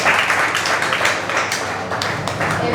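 An audience at a school Republic Day quiz event claps as a student speaker comes up, giving steady, moderately loud applause that continues throughout with a faint murmur beneath it.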